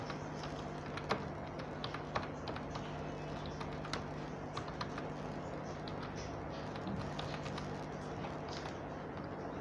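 Steady typing on a computer keyboard, soft clicks in irregular bursts with a few sharper key strikes over a low electrical hum, no voices.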